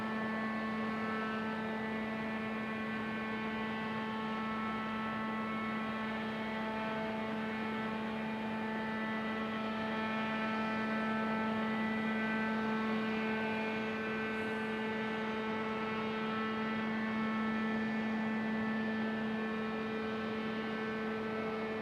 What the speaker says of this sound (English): I think that one is the air conditioner. It could be power unit too